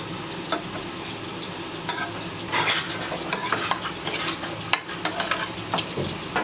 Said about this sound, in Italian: Facciamo anche girare, facciamo cuocere ancora un attimino